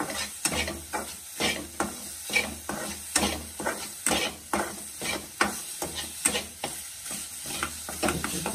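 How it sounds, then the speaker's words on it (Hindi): Pumpkin halwa cooking with sugar in a pan, a spoon scraping and stirring in a steady rhythm of about two strokes a second over a soft sizzle, close by with no talk. "चीनी डाल के थोड़ा सा इसको पका दें, एक आधा मिनट, सारी मिक्स हो जाएगी ना अच्छे तरीके से।"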